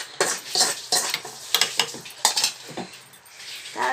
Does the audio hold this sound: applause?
no